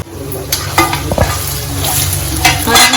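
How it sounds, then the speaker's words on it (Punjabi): Loud, close sizzling of a spice tempering for matar paneer frying, with a utensil scraping and stirring through the pan in quick strokes, no talking. "ਚੰਗੀ ਤਰ੍ਹਾਂ ਆਪਣਾ ਭੁੱਜੂਗਾ ਮਸਾਲਾ"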